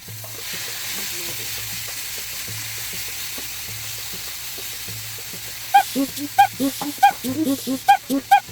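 Chicken drops into very hot oil in a home kitchen with a low, steady sizzle, then a burst of louder rhythmic scraping and crackling strokes as it is stirred close by.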